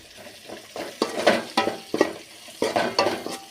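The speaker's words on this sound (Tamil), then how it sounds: "அடுத்தது கறி மசால் பொடி கிளறிக்கலாம் அப்புறம் அடி பிடிச்சிடலாம்" Curry masala powder being stirred into frying onion and tomato in oil, rhythmic scraping strokes over a continuous sizzle, close and fairly loud.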